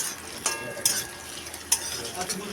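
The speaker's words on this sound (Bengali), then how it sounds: "আর দেব কেটে রাখা অল্প পেঁয়াজ এটাকে অল্প করে ভেজে নেব বেশি ভাজতে হবে না" Chopped onion frying lightly in oil with cumin seeds and bay leaf makes a constant gentle sizzle, broken by a few sharp clinks of a spatula stirring in the pan.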